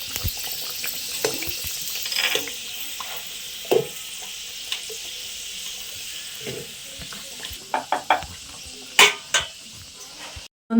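Litti, a baked dough ball, is reheated and stirred in a wok, giving a faint sizzle with scattered scraping stirs that grow sharper and louder toward the end.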